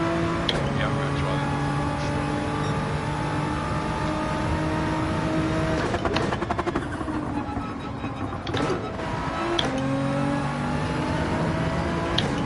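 Porsche race car engine in Gran Turismo 7 holding a loud, steady high-revving drone, briefly broken by shift-like dips and re-rising pitch, with talk over it.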